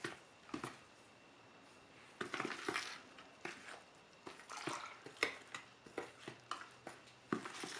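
Egg and butter dough being mixed by hand in a bowl for wheat dinner rolls, giving soft wet squishing and scraping strokes in an irregular rhythm, close and fairly quiet, with no talking.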